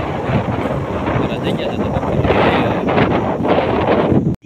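Strong wind blows across an open millet field in a village, roaring loudly into the microphone with gusty buffeting throughout, while someone speaks briefly under it.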